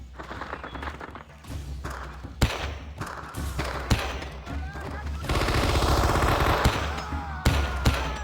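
Rifle fire rattles through a Vietnam firefight at Da Nang in the game Men of Valor, with sharp shots and bursts over rumbling battle noise, loud and close, mixed with voices.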